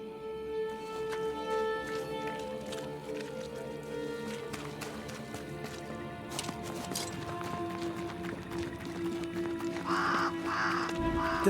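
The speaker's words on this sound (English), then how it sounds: "Did I see you talking to a crow just now?" A crow caws in the video game Banishers: Ghosts of New Eden, harsh calls over a busy layered ambient background.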